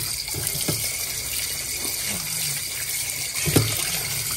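Tap water runs steadily into a sink while tilapia fish is washed, a continuous splashing stream with a few brief clinks and handling knocks, moderately near.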